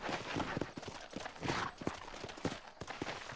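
Horse hooves clip-clop at a steady walking rhythm in the Red Dead Redemption video game, faint and close, with no talking.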